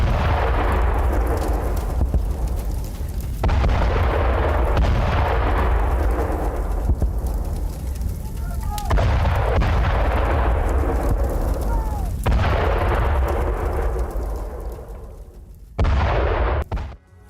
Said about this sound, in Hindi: यूक्रेनी हमले के बाद रूसी टैंक में जोरदार विस्फोट हुआ।